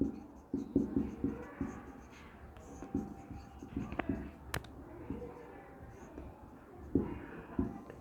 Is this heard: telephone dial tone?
no